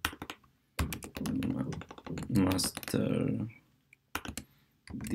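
A command entered in a Mac terminal on a computer keyboard, quiet clicking keystrokes in short bursts between a man's spoken instructions, including a brief pause before a final few taps.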